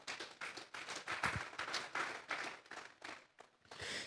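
A church congregation claps for the Lord, quiet and somewhat distant, in uneven rhythmic bursts of hands that rise and fall over a few seconds.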